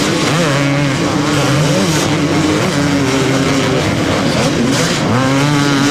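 A huge pack of 250cc motocross motorcycles race close together at the 1999 Budds Creek 250 Grand Prix, engines roaring loud and continuous with overlapping revs rising and falling throughout.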